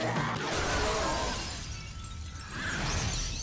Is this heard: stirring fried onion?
no